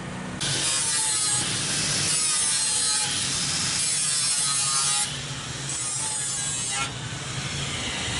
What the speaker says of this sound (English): Tightening up the fender. Yeah, it got banged up pretty bad.